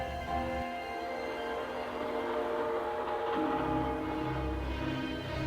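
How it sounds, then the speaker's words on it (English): A train sounds far off, with a steady rumble and sustained horn-like tones droning faintly throughout. "It almost sounds like another train off in the distance."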